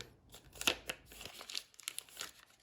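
Plastic protective bag crinkling as a DJI Osmo Action 5 Pro camera is pulled out during unboxing, a close, irregular series of sharp rustles and crackles with no talking.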